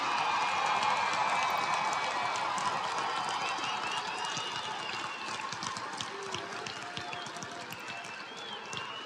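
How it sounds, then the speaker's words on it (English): A large audience at the December 2021 University of Memphis commencement gives the graduates a final round of applause. The dense, continuous clapping fills a big hall and slowly fades over about nine seconds. "Why don't we give our graduates one last round of applause?"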